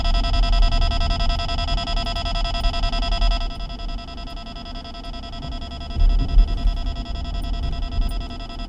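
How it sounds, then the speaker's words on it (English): A radar detector in a BMW sounds a steady electronic alert tone, loud and continuous for the first few seconds and then dropping away, over constant road and engine rumble inside the moving car. "This one also comes equipped with a radar detector,"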